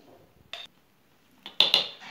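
A seasoned mixture being spooned into a small jar in a home kitchen: a few short, close clinks and scrapes of utensil on glass, separated by quiet pauses, with no talk.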